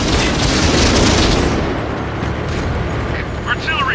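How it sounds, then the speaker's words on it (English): Artillery fire in a video game booms heavily at the start, then fades into a rumbling tail, with a voice speaking over it. "Artillery, watch out!"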